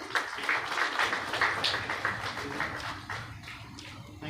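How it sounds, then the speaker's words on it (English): Applause from a conference audience during a welcome ceremony, a steady wash of many hands clapping that carries on for several seconds at moderate level and slowly thins toward the end. "Big round of applause."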